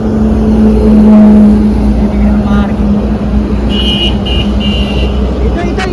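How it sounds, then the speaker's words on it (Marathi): A Tata Nexon car pulls up for its delivery at a Shani temple, its engine and road noise forming a steady, fairly loud rumble throughout while people talk nearby. "गाडी आली आहे"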